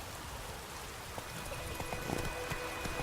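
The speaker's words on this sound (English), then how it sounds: "Let it rain." Steady rain hisses across the whole clip in the video game The Witcher 3: Wild Hunt, with scattered droplet taps and splashes standing out against the broad wash of noise.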